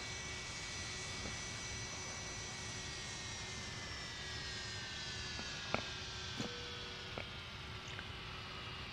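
MD-80 jet engines spool down in a flight simulator game after arrival at the gate, a steady whine of falling tones over a broad roar, with a few faint clicks and no talking.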